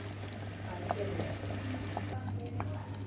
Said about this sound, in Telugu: బెల్లం పంచదార వేస్తాం